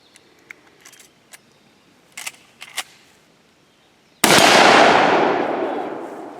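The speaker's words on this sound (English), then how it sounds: "Up next, we got a 30-30 coming out of my Winchester," A 30-30 round fired from a Winchester Model 94 lever-action rifle at a railroad tie plate: one loud, sharp blast that rings out and decays slowly, preceded by a few faint clicks and light handling noises.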